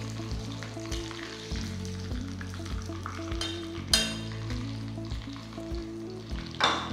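Chicken pieces fry in hot oil with a dense, continuous sizzle and crackle, steady throughout, with a couple of sharper spatters and a low rhythmic hum underneath.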